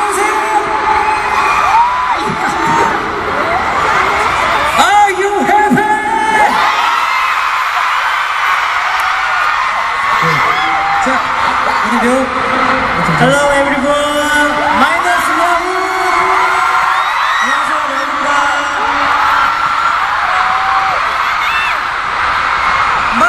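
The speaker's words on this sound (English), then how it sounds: "We missed all of you cheering for us in the Philippines." A concert crowd at a show in the Philippines cheers, whoops and screams continuously, loud and close, with shrill yells rising above the roar throughout.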